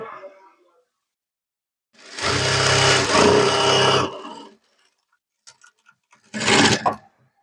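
A sewing machine stitches a salwar pant in two bursts, a longer whirring run of about two seconds, then a short one after a pause, loud and close with quiet gaps between.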